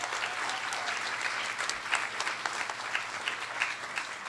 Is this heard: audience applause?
yes